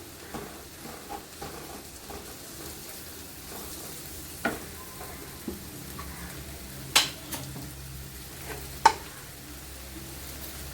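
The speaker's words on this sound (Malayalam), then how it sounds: "കറി മസാല ഇടുന്നു മസാലപ്പൊടി ഒന്ന് മൂത്ത് വയ്ക്കും" Curry masala powder fries in a pan for Kerala-style beef peralan, a soft, low sizzle throughout with a few sharp taps of a spoon against the pan.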